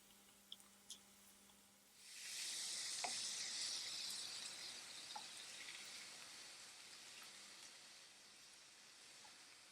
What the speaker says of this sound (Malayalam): ഈ പാനിലേക്ക് കുറച്ച് ബട്ടർ ഇട്ട് പനീർ ഒന്ന് സോട്ട് ചെയ്തെടുക്കാം.